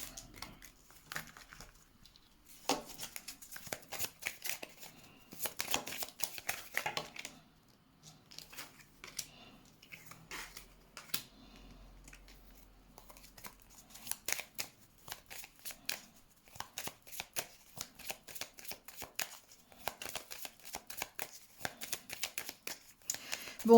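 Tarot cards are reshuffled by hand in repeated bursts of quick, papery riffling and slapping, close and crisp, with short pauses between rounds and no talking.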